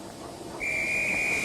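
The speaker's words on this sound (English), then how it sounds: "I heard a whistle." A single shrill, steady steam locomotive whistle starts abruptly and holds its tone, clear above faint background rumble.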